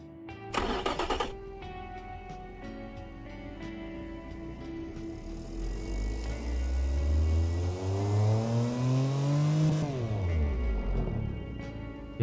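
The Automation game car engine clicks and starts, idles briefly, then revs in a long rising sweep before falling quickly back to idle, loud and close with no voices.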